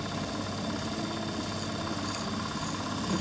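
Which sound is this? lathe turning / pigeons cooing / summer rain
lathe turning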